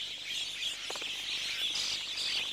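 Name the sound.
wattled starlings calling in the Karoo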